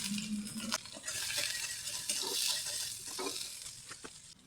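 Green chillies and chopped onion sizzle in hot oil for a fish curry with beans, potato and tomato, a steady broadband frying hiss with scattered stirring scrapes and a brief low hum near the start.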